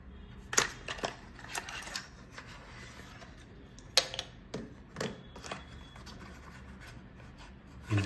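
A new LED spectrum analyzer package being unboxed: sharp crinkling, tearing and tapping noises at close range come in irregular bursts, with quieter rustling handling in between and no talk.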